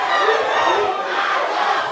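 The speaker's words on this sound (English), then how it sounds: "he's passing through the ANSE RAYE crowd, and he's been given a nice greeting as he goes through" A football crowd at a semi-professional league match in Saint Lucia greets a substituted player with a sustained roar of shouts and cheers, dense and fairly loud throughout.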